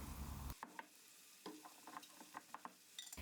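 Red pepper paste and tomato juice frying in olive oil in a pan for a cabbage and egg dish, giving a faint, steady sizzle broken by scattered scraping clicks from stirring.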